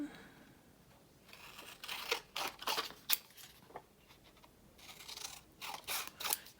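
Scissors snip through leftover paper scraps while trimming a decorated paper bag, giving a run of crisp, close cuts in uneven bursts with short pauses between them.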